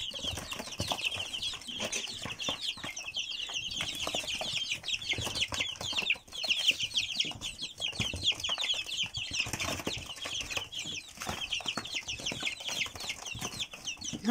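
Busy, continuous peeping and clucking of many young chicks close by in a box as they are given worms, with scratching and rustling throughout.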